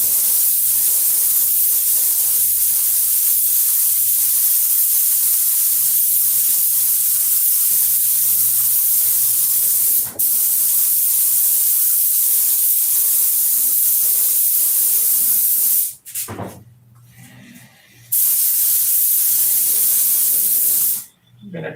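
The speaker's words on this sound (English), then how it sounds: "Just spray it on light and let it pack, and then do the second coat" Spray paint hisses steadily onto a model airplane in long, continuous bursts, loud and close, with brief pauses near the end between passes.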